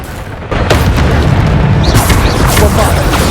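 A Bombarda spell explosion in the video game Hogwarts Legacy, a sudden loud boom followed by a sustained rumbling blast and crackling debris. A voice talks partly over it.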